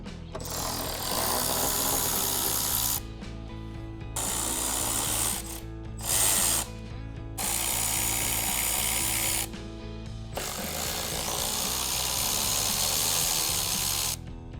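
A ratchet spins out 10mm bolts from the front bumper of a 2025 Toyota 4Runner in long, loud, steady bursts, close up, with short pauses between runs and no speech.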